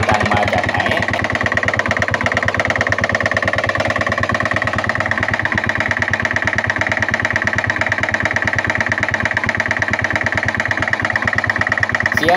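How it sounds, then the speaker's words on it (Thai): A Ryuka motorcycle engine with a piston striking the cylinder runs steadily near at idle, a fast even knocking pulse repeating throughout with no talk. "เสียงที่ทุกท่านได้ยินเป็นเสียงของลูกสูบโผล่มาชนกันกับกระบอกสูบ"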